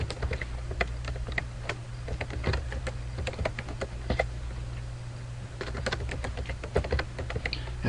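An email address being typed on a computer keyboard: a steady run of crisp, close key clicks with irregular rhythm and short pauses, heard alone with no talking.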